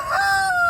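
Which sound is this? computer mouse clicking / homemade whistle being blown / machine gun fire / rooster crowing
rooster crowing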